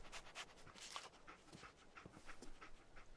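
Dog in the video game Fallout 4 panting and sniffing in quick, rhythmic huffs, faint and steady across a few seconds, with no voices.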